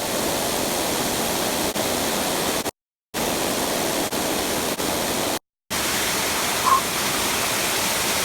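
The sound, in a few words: waterfall flowing during a swim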